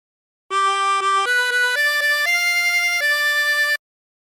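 A harmonica plays a phrase of La Cucaracha as a clear run of sustained reedy notes that steps upward and then settles. It is close, loud and solo for about three seconds.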